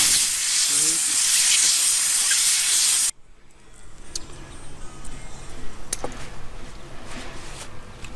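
A compressed air gun blows grease off a trailer axle bearing with a loud, steady hiss for about three seconds, then cuts off abruptly, leaving quiet room noise and a few small clicks.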